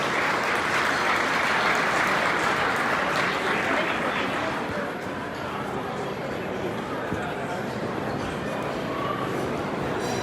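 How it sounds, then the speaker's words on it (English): Dense, sustained crowd applause for an honored guest at a ceremony, a thick wash of many hands clapping at once that dips slightly partway through and keeps going steadily to the end. "A great round of applause for Dr. Fabio Varlese."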